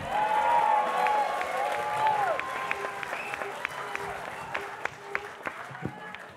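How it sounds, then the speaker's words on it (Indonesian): An audience at a Democratic Party leadership gathering applauds loudly at first. Voices are heard under the clapping, which thins out into scattered, separate claps near the end. "Tepuk tangan untuk semuanya ya"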